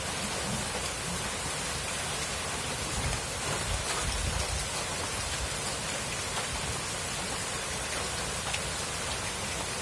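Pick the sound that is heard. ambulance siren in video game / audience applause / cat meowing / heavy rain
heavy rain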